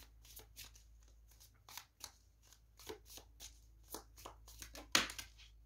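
Oracle cards are shuffled and drawn by hand up close, a quick series of soft riffling flicks and taps in an irregular rhythm, ending in one sharper, louder snap before fading out.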